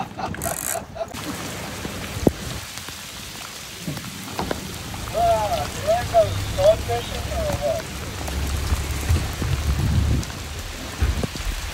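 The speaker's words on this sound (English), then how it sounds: "It's raining." Steady rain falling and pattering on surfaces, with faint voices talking under the hiss in the middle.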